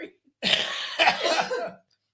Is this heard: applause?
no